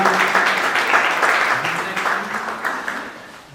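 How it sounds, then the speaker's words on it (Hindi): An audience at an annual Rathyatra chariot festival ceremony applauds during a memento presentation, a loud sustained wash of clapping mixed with crowd voices that slowly fades toward the end. "तालियां बजाइएगा।"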